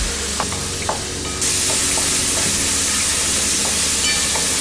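Finely chopped tomatoes and salt sizzling and frying in a pan for pav bhaji, a steady close hiss that swells louder partway through, with faint clinks of a spoon stirring.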